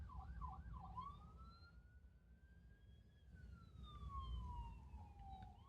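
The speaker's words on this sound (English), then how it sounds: "there's an ambulance." An ambulance siren passes at a distance, a faint wail that yelps rapidly, then rises in a long sweep and slowly falls away as it moves off.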